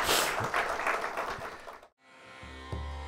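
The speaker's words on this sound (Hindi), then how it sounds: "तालियां बजाकर एक बार हम उनका स्वागत करें" An audience breaks into applause to welcome a guest at a foundation day event, a burst of clapping that lasts under two seconds before it cuts off.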